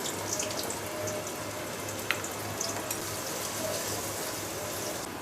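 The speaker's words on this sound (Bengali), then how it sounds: "তেল গরম হয়ে গেছে, দিয়ে দিচ্ছি পেঁয়াজ" Onion hits hot white oil in a pan and sizzles softly with a steady, faint hiss and occasional small pops, close by in a quiet kitchen.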